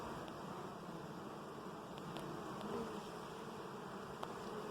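Honey bees buzzing at a hive entrance while foragers return carrying orange and yellow pollen, a steady, close, continuous droning hum with faint rustling and no talk.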